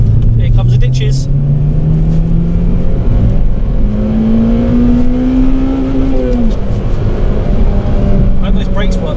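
Honda Civic EP3 Type R engine revving hard and climbing in pitch as it pulls into VTEC, loud and close, easing off then building again, with voices talking inside the car.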